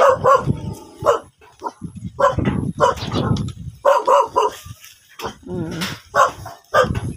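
A dog barks repeatedly in sharp bursts, loud and close, with short gaps and a few yelps between barks.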